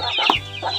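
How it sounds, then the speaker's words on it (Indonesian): Chickens feeding on banana stem give a short burst of close, soft clucking, a few quick throaty notes within under a second, with no talking. "ayam-ayamnya senang sekali dengan debok pisang ini"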